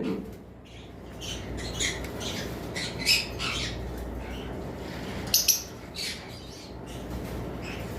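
Caged lovebirds, including albino pairs, give sharp squawks and chirps at irregular intervals over a steady background hum, with a couple of louder close calls standing out.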